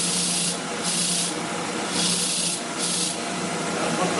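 An electric grinder running at low speed works against the brush roll of a Hoover WindTunnel self-propelled upright vacuum, producing a steady close hiss with rhythmic scrubbing surges about once a second.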